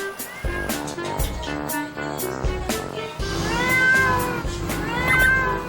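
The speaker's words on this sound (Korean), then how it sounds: "어머, 새끼 고양이?" Small white kittens on a rooftop let out a run of high, plaintive meows, loud and close, with several drawn-out cries following a few short clicks and rustles.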